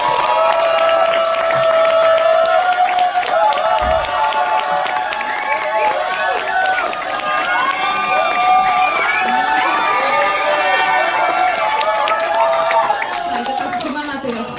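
A crowd at a beauty creator academy session claps and cheers loudly as a guest is welcomed, with many shouting, whooping voices rising over steady applause throughout.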